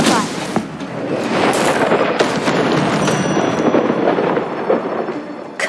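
Spells fired in rapid combat in the video game Hogwarts Legacy, including a Stupefy cast, burst as loud crackling blasts over a dense, continuous roar of battle effects, with repeated sharp hits throughout.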